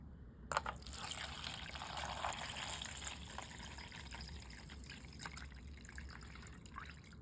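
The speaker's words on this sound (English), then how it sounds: "then we're going to add the vinegar" Vinegar pours into a container in a soft, continuous trickle and splash, starting abruptly and settling into a quiet, steady dribble with small drips.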